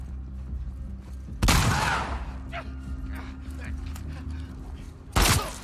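Two heavy shotgun blasts in the video game The Last of Us 2, loud and close, spaced a few seconds apart, with a voice talking in between.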